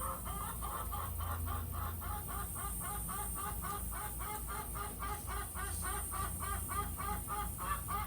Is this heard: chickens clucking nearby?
yes